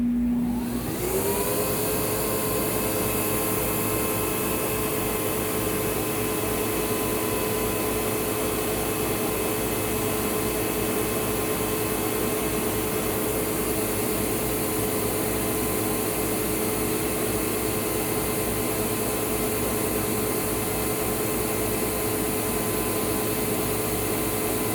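A Sebo X4 upright vacuum cleaner runs steadily and loudly close by, a constant motor whine with a broad airflow rush, starting up in the first second and holding an even drone throughout with no talking.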